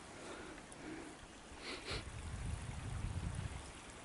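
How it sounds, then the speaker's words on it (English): A creek on the Pickney Loop trail in Pickney State Forest, Rutland, New York, flows with a soft steady wash and trickle, faint and continuous, with the low rush growing a little fuller toward the end. "So this is that same creek,"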